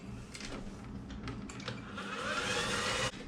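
An electric mixer creams a stick of butter with sugar for a buttermilk chocolate cake, giving a steady whirring drone that swells louder toward the end before cutting off abruptly, with no talking.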